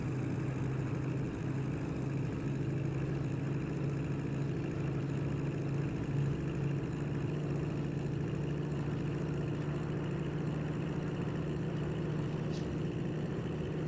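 A car engine on a long straight in the racing game Assetto Corsa, a steady, faint droning hum like a propeller aircraft, holding one even pitch throughout with no talking.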